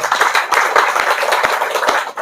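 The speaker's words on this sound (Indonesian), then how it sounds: "Tepuk tangan dulu." An audience applauds at an Indonesian religious-political gathering, a dense steady patter of many hands clapping close and loud, with a few sharper individual claps standing out.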